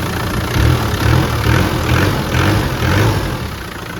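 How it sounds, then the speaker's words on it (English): A 1996 Land Rover Defender 90 with its 300Tdi diesel engine idles steadily and loudly, a low throbbing rumble with a slightly loud exhaust and gentle rhythmic pulsing, close up with no talk. "As you can hear, a little bit louder in the exhaust, but engine"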